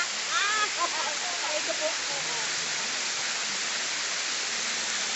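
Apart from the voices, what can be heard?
Sapaongot Falls waterfall in Ranao, Bani, Pangasinan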